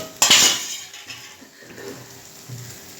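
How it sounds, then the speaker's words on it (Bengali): Cooked crabs being stirred with spices in a cooking pan, a sharp utensil clatter at the start followed by softer intermittent scraping and clinking, close and without talk. "দিয়ে এবার ভালো করে সব মিশিয়ে নেওয়া হচ্ছে মশলার সাথে।"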